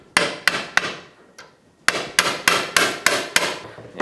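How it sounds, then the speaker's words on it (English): Impact driver on a long extension breaking loose Phillips screws on a Kawasaki Mule UTV, loud close bursts of sharp hammering blows in two clusters separated by a short gap, with no voices. "we're going to be using this impact on a rather long extension to break those Phillips screws loose"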